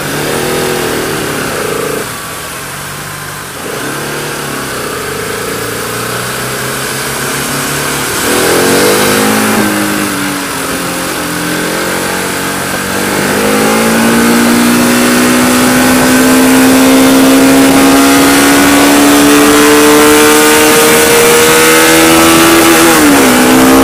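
A Yamaha RS 200 motorcycle ridden through city streets, its engine loud and close, revving up and down, then holding a steady rising drone as it accelerates.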